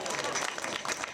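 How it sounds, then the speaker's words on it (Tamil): Applause from a crowd at an outdoor Tamil village stage event, where a mock Trump statue is being unveiled. Dense, steady clapping sustains for about a second, loud and close, with overlapping crowd noise. "கைதட்டுங்க."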